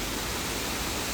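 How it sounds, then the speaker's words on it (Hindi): Rain-fed waterfalls on the hills at Gomarakh Dham near Barmer rush in a dense, steady hiss of falling water, loud and unbroken throughout. "पहाड़ों पे बने हुए जो झरने हैं वो बरसात के बाद में स्वतः चालू हो जाते हैं, चल पड़ते हैं।"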